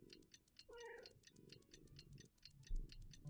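A house cat sits in someone's lap indoors and gives a short, rising vocal call up close. Soft purring follows, set against a steady, clock-like ticking pulse, with no talking.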